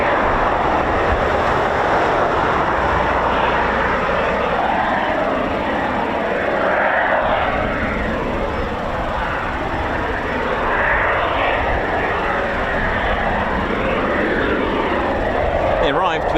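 Eurofighter Typhoon FGR4 jet at RAF Coningsby, a steady broadband roar that holds for the whole stretch while someone talks over it.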